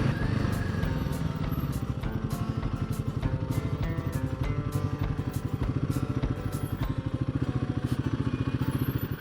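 A motorcycle rumbles steadily along through a historic gold mining town, its engine loud and close with a continuous throbbing beat and faint clattering, no speech over it.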